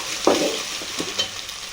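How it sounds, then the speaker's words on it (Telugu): Green chilies hit a hot pan with ginger paste, a steady close sizzle with a sharp spattering burst near the start and a few soft stirring bumps. "మనం ఇప్పుడు పచ్చిమిర్చి వేస్తున్నా"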